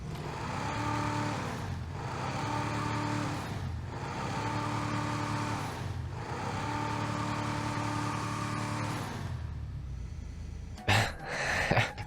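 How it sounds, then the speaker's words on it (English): The Albany Roosevelt Valor, a vintage-style car in GTA Online, idles outside with a rough, lumpy, cyclic engine note that pulses in regular waves, then sharp bursts and rustles break in near the end. "I'd say that's far from a good engine sound"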